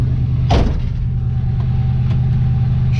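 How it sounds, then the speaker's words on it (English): Race car engine in a garage cranks and catches, then settles into a loud, steady low idle close by. "So, ignition system, start it."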